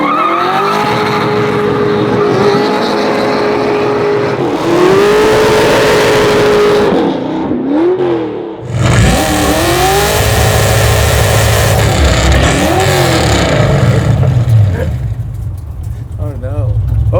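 Garage-built all-motor custom Chevy C10 truck engine revving and accelerating hard in a race, loud rising and falling engine pitch through gear shifts with tire squeal, a cut-out near the middle, then another loud surge; voices talk underneath.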